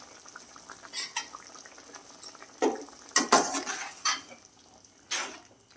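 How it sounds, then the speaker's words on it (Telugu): Green chillies go into a cooking pot of mango and taro curry, producing a handful of scattered clinks, taps and stirring scrapes against the pot, fairly close and otherwise quiet. "పచ్చిమిర్చి కూడా వేసేస్తున్నాను."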